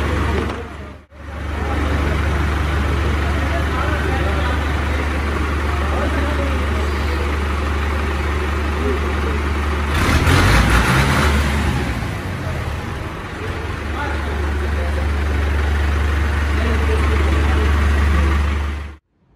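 Fiat 640 tractor engine running as the tractor is driven out for delivery, a steady low rumbling drone with a brief louder surge partway through before it settles again.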